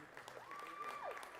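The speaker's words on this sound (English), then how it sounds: "the Pirates starters heading to the bench to a big round of applause" A crowd at a high school boys basketball game applauds as the Pirates starters head to the bench, with steady, fairly distant clapping that runs continuously and a faint tone passing over it.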